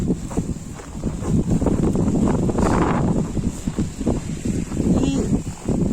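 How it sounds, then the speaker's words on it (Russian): Strong, cold wind gusting through a Moscow snowstorm at minus fifteen, a steady broadband roar buffeting the microphone with rustling bursts throughout. "И холодный сильный ветер."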